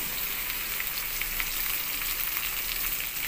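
Stuffed okra (bharwa bhindi) frying in oil in a pan, an even, continuous close sizzle with fine crackle and no voices.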